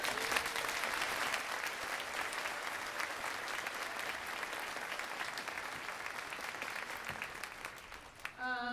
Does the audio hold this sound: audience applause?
yes